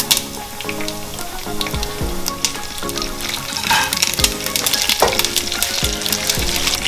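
Whole spices for chicken biryani crackle and sizzle in hot oil, a steady loud frying hiss with sharp pops and repeated clinks of a spoon stirring the pan throughout.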